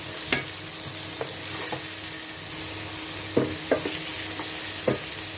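Beef stir fry with carrots and potatoes is stirred in a hot pan, with a steady sizzle under a handful of sharp spatula scrapes and knocks spread unevenly across the clip.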